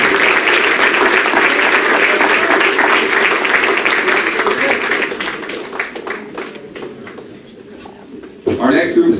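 Applause for senior athletes at a university athletics awards assembly, a dense sustained round of clapping from a large crowd indoors that slowly thins and fades over several seconds before a brief burst of noise at the end.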